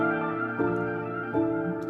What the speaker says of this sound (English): we then got another accent from Carvey's kit